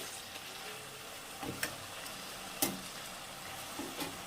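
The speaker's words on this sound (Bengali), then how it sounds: "তো চলো এটা ভালো করে কষিয়ে নিই" Jackfruit masala with potatoes sautéing in oil, a low steady sizzle underneath, with a few sharp scrapes and taps of a spoon against the pan.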